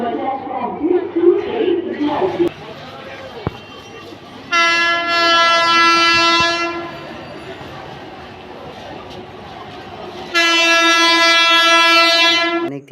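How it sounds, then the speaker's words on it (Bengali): A local train's horn blares twice in long, loud blasts, separated by the rumble of the train passing on the tracks at Konnagar. "এই লাইনটা দিয়ে ডাউন আপের গাড়িগুলো যায়"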